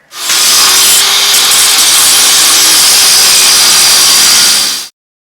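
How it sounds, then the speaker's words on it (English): A saw cutting through a bolt during a Porsche 911 header installation, a steady, loud, continuous rasping hiss running for about five seconds before stopping abruptly. "I'm just going to cut this short enough so I can access it"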